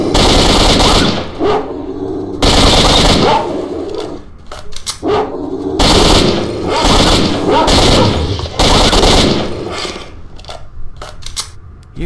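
Loud, close bursts of automatic AK rifle fire from the video game STALKER: Shadow of Chernobyl, several sustained volleys separated by brief pauses with some echo.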